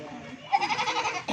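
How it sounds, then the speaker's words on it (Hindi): A pure Rajanpuri Gulabi goat gives a short, close bleat lasting under a second, with faint background noise. "ये माशाल्लाह नंबर 1 पे बकरी आ रही है, प्योर राजनपुर गुलाबी।"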